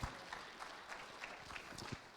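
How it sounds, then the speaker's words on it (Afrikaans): Church congregation clapping hands in applause, a faint, steady patter of many hands lasting a couple of seconds. "gee vir die Here 'n lekker hande klap"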